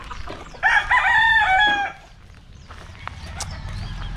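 A nearby chicken gives a loud drawn-out call with a couple of clucks, then fades to quiet outdoor background.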